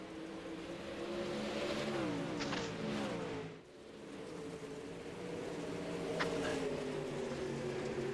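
Dirt late model race cars in an iRacing heat race, their engines in a steady throaty drone that swells and falls as the cars pass, with a short dip in the middle and a faint background level.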